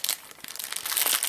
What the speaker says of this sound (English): excuse the rustling